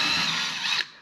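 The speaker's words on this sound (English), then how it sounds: "let me get the screws out and we'll work on the next step" Power driver buzzing steadily as it backs screws out of a MaxxAir RV roof fan, close and continuous for most of the moment before cutting off abruptly near the end.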